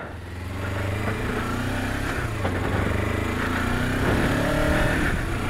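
A Kawasaki Versys X 300 motorcycle pulls away, its small twin-cylinder engine a steady, moderately loud drone that rises gently in pitch as it accelerates, heard throughout without any talk.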